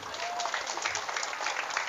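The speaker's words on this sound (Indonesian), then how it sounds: "Tepuk tangan, tepuk tangan, tepuk tangan." Audience applause during an Islamic religious talk, a brief even patter of many hands clapping at moderate volume with no voice over it.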